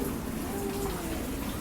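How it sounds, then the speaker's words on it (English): Steady rain easing off in Thailand during the wet season falls as an even, continuous patter of drops, close by and fairly soft, with no distinct loud bursts. "Thank God the rain is easing."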